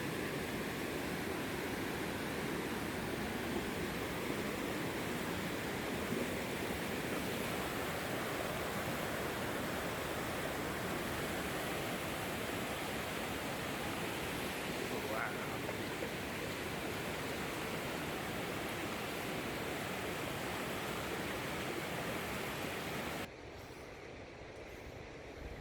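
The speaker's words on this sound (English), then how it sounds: "Crossing flowing water." Steady, dense rush of flowing water as horses wade across a stream in Kyrgyzstan, a loud continuous broadband wash with no clear hoof splashes standing out, dropping abruptly quieter near the end.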